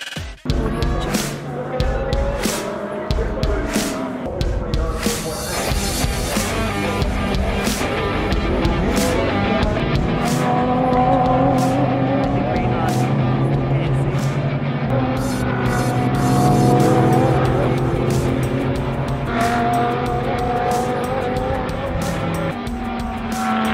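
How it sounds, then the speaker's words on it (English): Supercars race at Sydney Motorsport Park, their loud engines roaring and whining in a steady stream with repeated passes and brief tire noise, and a voice speaks beneath the racket. "Penrite have invited us down here today to watch a round of the Supercars at Sydney Motorsport Park"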